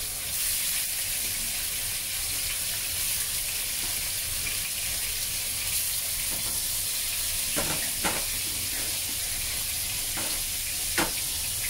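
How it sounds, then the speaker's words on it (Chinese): Tofu sizzles steadily in hot salted oil in a wok, a close, continuous crackling hiss with a few sharper spits and pops toward the end. "我们现在先开始呢是先煎了豆腐先"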